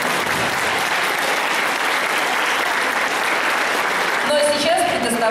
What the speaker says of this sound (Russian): Похлопаем, ребята.